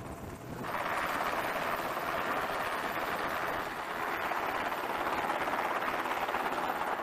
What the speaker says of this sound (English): Helicopters deliver lighter items like food, medical supplies, or parts to subs that partially surface.